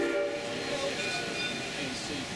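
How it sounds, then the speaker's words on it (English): Narrow gauge steam train on the Georgetown Loop railroad sounds a sustained whistle over steady rolling rumble, heard from aboard the train with faint background voices. "There's that whistle."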